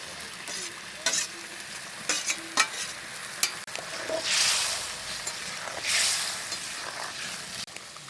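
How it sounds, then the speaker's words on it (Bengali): A pot of small fish curry with yardlong beans and potatoes boils over a cooking fire, giving a steady bubbling, sizzling hiss broken by a few sharp clinks of a utensil, with no one talking. "কেমন জাল দিচ্ছে, কেমন ফুটছে, টকবক টকবক করে তো তাড়াতাড়ি।"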